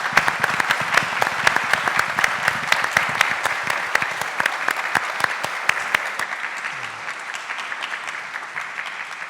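Audience applause for a panel of speakers at a public forum on environment in Mexico City, steady dense clapping for about six seconds, then thinning and fading out.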